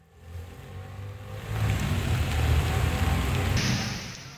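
Heavy rain falling over flooded streets in Jakarta with stalled traffic, a dense steady hiss that thickens after the opening second, with low road rumble underneath.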